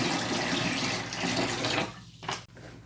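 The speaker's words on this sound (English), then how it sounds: "Now, I am going to do approximately 2/3 water, 1/3 bleach, so I'm just dumping some in there." Water and bleach splash and gush into a container for soaking a flannel shirt, a steady loud pour that cuts off near the end with a brief trailing splash.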